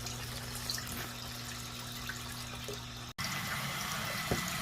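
Water runs steadily from a hose while pea gravel for a garden pond is rinsed, a constant outdoor rush with a brief cutoff before the flow resumes.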